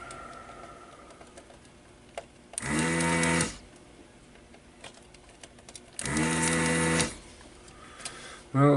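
A desoldering pump sucking solder out of circuit board holes during an old Symetrix 528 repair. Two separate loud, buzzing bursts of about a second each stand out close by against a quiet workbench background.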